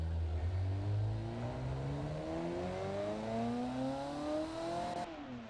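A low-compression car engine revs in BeamNG.Drive on a wheelie drag racer, the pitch climbing steadily through a long pull before easing off near the end, loud and close with no talk.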